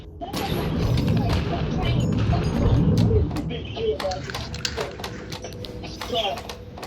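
Gunfire in State of Decay 2 comes as a string of sharp, separate shots spread over several seconds, with a dense mix of game noise underneath, loudest early on and thinning toward the end.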